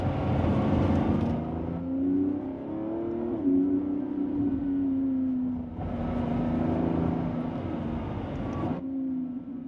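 A 2024 Lamborghini Revuelto engine drones steadily with a rising and falling revving tone, loud and close, with a broader roar swelling in twice, no voices heard.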